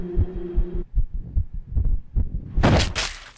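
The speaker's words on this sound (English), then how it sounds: "Wind and rising heartbeat" A rising heartbeat in the video game Simulacra, a series of deep, thudding pulses with a low hum at first, followed by a louder rush of noise near the end.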